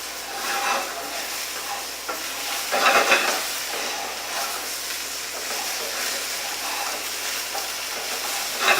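Spinach and sweet potatoes fry in a pan while being stirred, giving a steady sizzle and hiss with scraping strokes and a brief louder clatter near the middle, all close up and with no talk.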